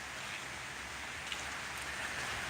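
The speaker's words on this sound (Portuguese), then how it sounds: "Mas daí hoje tá chovendo." Steady rain falling outdoors on a cold autumn June day in Nova Petrópolis, in the Serra Gaúcha, a constant soft hiss of drops on surfaces at low level with no talk.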